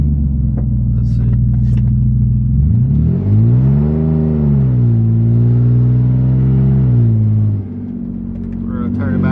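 Nissan 350Z accelerating hard with traction control switched off and its wheels spinning: a loud, close engine rumble rises and falls in pitch as the revs climb and drop, with speech underneath.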